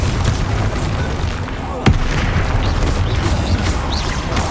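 A Bombarda spell explodes in the video game Hogwarts Legacy: one sharp, heavy boom cuts through busy game ambience and rumble partway through, then the background carries on.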